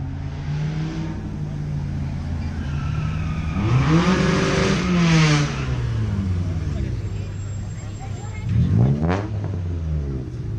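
A car engine revs hard while spinning at a car meet, its rising and falling whine sweeping up and down in loud, repeated surges, with excited voices talking over it and crowd noise around.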